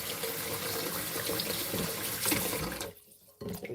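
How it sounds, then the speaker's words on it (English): Running water from a tap splashes steadily over roselle calyxes being rinsed in a sink, a continuous gushing wash that briefly dips quiet before resuming. "So we give it a good rinse."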